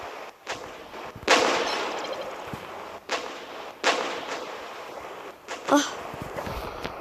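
Tank cannon fire in a video game tank battle, several loud booming shots spaced a second or two apart, with a sharper crack near the end, over steady game background noise.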